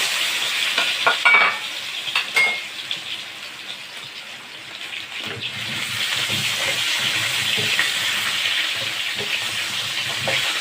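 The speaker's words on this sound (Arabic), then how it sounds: "هنشوح البطاطس، هنديها تشويحه كده" Potatoes stir-fried in a hot pan for a potato tray bake, with a steady close sizzle and scattered scraping stirs that are busy at first and settle into a continuous frying hiss.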